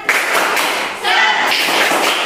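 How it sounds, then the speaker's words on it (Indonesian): Group 'tepuk semangat' clapping in a classroom-style gathering, a burst of many hands clapping together in a quick patterned rhythm, loud and close. "Kita lanjutkan dengan tepuk semangat bersama-sama."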